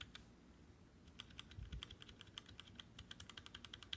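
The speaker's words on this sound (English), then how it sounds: "The metallic sound is the keys coming up." Rapid typing on a computer keyboard with a bright metallic spring ping as the keys spring back up, quiet and close, a brief lull at the start before steady clicking resumes.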